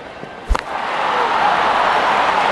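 In the cricket video game Real Cricket 22, a bat strikes the ball with one sharp, loud crack, and a stadium crowd's roar quickly swells and holds behind it.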